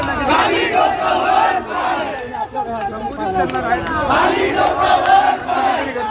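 A dense crowd at a political rally shouts and chants together, loud and close, with surging waves of voices and overlapping cries building and falling.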